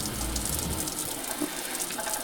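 A shower head on an off-grid cabin water system, fed by a small pump, sprays a steady, hissing stream of water that carries on without a break.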